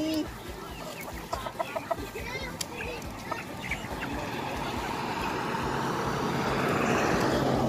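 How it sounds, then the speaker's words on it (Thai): Chickens cluck repeatedly at a rural market near Thakhek, Laos, where live fowl are sold. The calls come close and busy at first and then sink under rising crowd noise and people talking. "ไก่ตีไก่แช่เนาะไก่อย่างนี้เป็นไก่ลาดหรือว่าไก่พื้นเมืองน่ะ"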